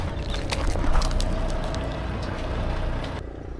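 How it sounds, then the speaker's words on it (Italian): A forklift engine runs nearby with a low, continuous rumble and a faint rhythmic beating somewhat like a helicopter, steady throughout before the top end suddenly drops away near the end. "Il rumore che sentite, che sembra un elicottero, in realtà è il muletto"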